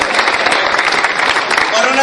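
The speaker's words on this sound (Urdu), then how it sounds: "انہاں دے کلام شروع کرن تک تہاڈیاں تالیاں نہیں رکنی چاہیے" An audience at a mushaira poetry recital in Hadali, Pakistan, claps in a dense, continuous burst of applause that stays loud and even across the moment.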